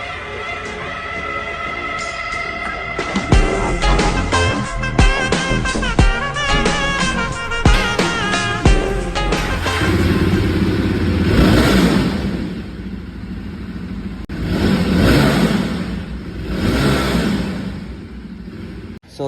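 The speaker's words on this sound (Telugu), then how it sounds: "ఒకసారి దాన్ని స్టార్ట్ చేసి ఎగ్జాస్ట్ సౌండ్ అయితే విందాం" A Jawa 42 Bobber motorcycle in Jasper Red starts up and runs, with its exhaust note rising and falling through several close, loud revs over a steady idle.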